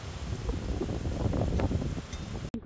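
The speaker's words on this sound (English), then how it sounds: "windy." Strong wind gusting across a rural homestead during a catastrophic bushfire week, buffeting the microphone and rustling foliage in a loud, continuous roar that cuts out abruptly near the end.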